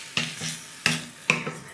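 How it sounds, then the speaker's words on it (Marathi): Chicken stir-fried in a kadhai with thecha, a crushed green chilli paste, for khardā chicken: three sharp scraping stirs, each with a burst of sizzle, close and fairly loud with no talk. "छान परतून घ्यायचं ठेच्यामध्ये चिकन."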